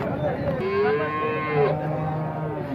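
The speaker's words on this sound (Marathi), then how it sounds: "चांगली गाई आहे." A cow at a rural cattle market lets out a long, loud low moo that rises and falls, close by, with market background noise behind it.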